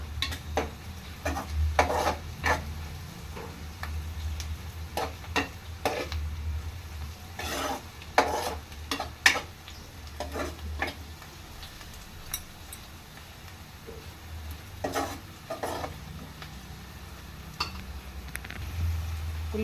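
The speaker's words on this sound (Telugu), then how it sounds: "ఆనియన్స్ ఫ్రై అయ్యాయి కదండి, మసాలాకు వేసుకుందాం." Onions for a prawn curry fry in a pan and are stirred, with repeated scraping and rubbing strokes of a spoon over a steady low sizzle, close and moderately loud, with no talking.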